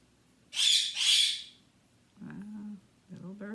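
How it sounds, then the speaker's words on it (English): Pet birds in a home chirp and call: two loud, bright squawking calls close together, followed by lower chattering bird sounds. "Little bird's talking away."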